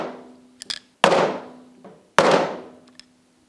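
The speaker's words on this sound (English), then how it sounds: "take a soft blow hammer, and just a light tap on top of the screwdriver" A soft blow hammer taps a screwdriver to shock loose the float bowl screws on a Yamaha 90 outboard carburetor. Two sharp, close, ringing strikes are heard, each followed by a short decay, with a lighter click before them.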